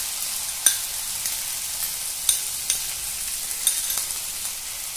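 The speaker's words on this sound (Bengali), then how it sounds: "পেঁয়াজ এবং কাঁচা লঙ্কাও আরও কিছুক্ষণ ভেজে নেব।" Onions and green chillies fry in a pan for chilli soya, a soft steady sizzle broken by a few sharp clicks and scrapes of a spoon stirring, close and unaccompanied by speech.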